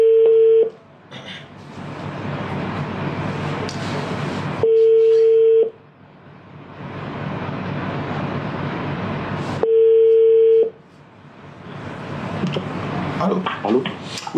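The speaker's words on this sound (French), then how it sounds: "Je vais essayer de l'appeler voir" Telephone call audio with a steady tone repeating at regular intervals, separated by stretches of louder noisy sound, ending in a ringing-type pattern.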